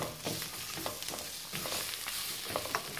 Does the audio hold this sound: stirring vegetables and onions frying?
yes